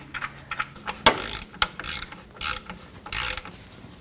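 A ratchet tightens the lower alternator bolt on a 1984-2001 Jeep Cherokee, giving close, repeated clicking bursts with a few sharper metallic knocks, loud and without speech.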